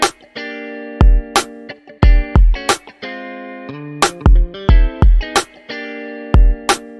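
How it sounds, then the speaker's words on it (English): A punchy drum and tonal instrument pattern runs through a Waves plate reverb plugin, with sharp hits and sustained notes leaving short, smooth tails. It is loud and alone, with no talking. "That's a nice reverb sound."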